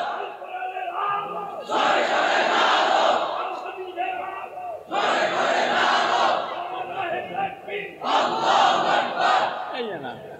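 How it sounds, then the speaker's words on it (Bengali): A crowd shouts the takbir, Allahu Akbar, in three loud, surging collective bursts of about two to three seconds each, separated by brief lulls, with voices bellowing in unison. "মুরব্বি উড়ি একটা তাকবীর দেন না, বুড়া মিয়ার একটা তাকবীর।"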